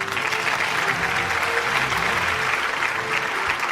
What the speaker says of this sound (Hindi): A huge round of applause ladies and gentlemen